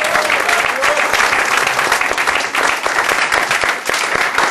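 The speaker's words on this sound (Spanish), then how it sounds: "den un aplauso al Señor" A church congregation claps together during a sermon, a loud continuous stretch of applause from start to finish with faint voices blended in.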